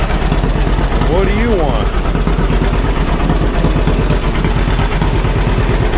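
A cold two-cylinder John Deere 50 tractor engine runs steadily with a loud, continuous rhythmic chugging, while a person speaks briefly over it.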